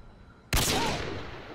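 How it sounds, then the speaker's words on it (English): A sudden loud burst of video game gunfire erupts after a brief quiet moment, aimed at a barrel mid-map, and its roar sustains and slowly fades. "I'm like shooting at the barrel in the middle of the map."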